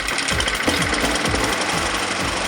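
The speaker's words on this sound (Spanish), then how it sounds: "aunque con algo de humo, ya nuestra cortacésped arranca" A lawn mower engine runs after a spark plug change, a loud, close, steady rapid chugging drone that holds unbroken throughout without any talking.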